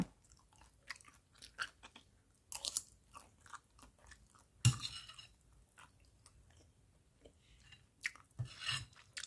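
Someone chewing and biting food during a casual eating session outdoors among plants, with irregular crunchy bites and soft mouth sounds close to the mic, quiet between chews.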